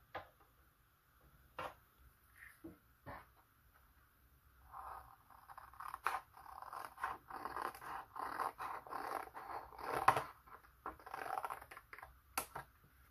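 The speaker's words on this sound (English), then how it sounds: "we are going to cut a rectangle off the top and leave it more of a square at the bottom" Scissors cut decorated paper for a butterfly craft: a few sparse snips at first, then a dense run of crisp scraping cuts close by, with no talking.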